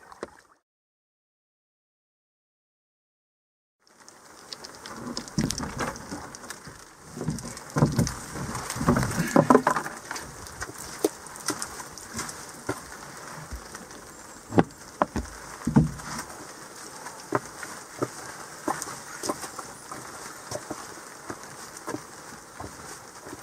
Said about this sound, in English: Yeah, day 14 and a little bit of rain.